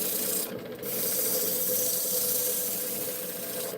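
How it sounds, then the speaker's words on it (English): Sandpaper rubs against a turned part spinning on a lathe, rounding off its edges, giving a close, steady rasping hiss with a brief lift partway through. "Sand it."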